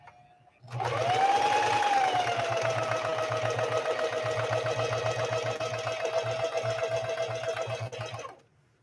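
A Singer 4411 heavy-duty sewing machine runs a 3-point zigzag stitch, starting abruptly and holding a loud, steady motor whine with a rapid needle chatter for about eight seconds before stopping. No one speaks while it runs.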